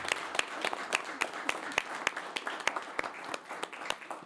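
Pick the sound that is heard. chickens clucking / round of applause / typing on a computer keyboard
round of applause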